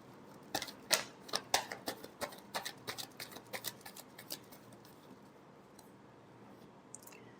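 Tarot cards are shuffled close by in a rapid run of crisp flicks and taps that slows and fades out, followed by a pause and one last soft flick.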